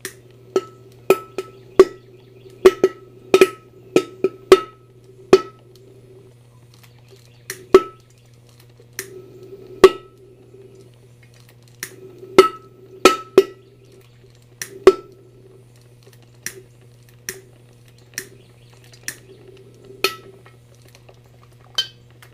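Irregular small pops and clicks, like bubbles bursting, from an electrolysis cell producing hydrogen, sound sharply over a constant low electrical hum.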